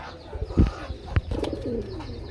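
Pigeons coo at a busy pigeon market, low soft throaty calls repeating close by over a background of murmuring voices and faint clatter.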